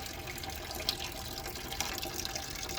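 Coolant drains steadily from the radiator of a Mercedes-Benz W202 during a thermostat change, a continuous close-up trickle and splash of liquid with a couple of faint clinks.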